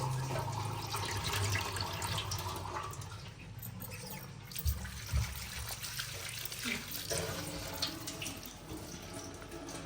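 Running tap water pouring and splashing in a sink as soil is rinsed off, a steady close gush with faint handling knocks and a little background voice.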